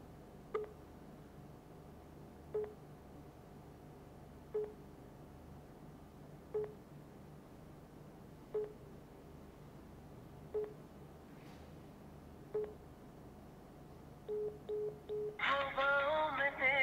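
A telephone call is placed: short, faint tone beeps repeat steadily about every two seconds, then a quick cluster of tones leads into a louder, brighter burst at the end. No one speaks.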